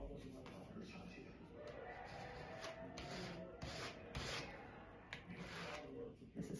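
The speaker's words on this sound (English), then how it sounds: "Getting a palette scraper knifey thing that I never know what to call." A palette scraper knife rubs and scrapes across a surface caked with dried oil paint, making a steady, fairly quiet rasping texture with brief louder strokes, while a person talks over it.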